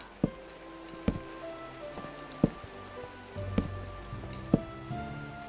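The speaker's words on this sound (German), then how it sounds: "Das schüttet ja richtig hier." Heavy in-game rain pours in a block-building game with a texture pack, a steady hiss with scattered sharp drips and taps landing every second or so, with faint musical tones underneath and no talking.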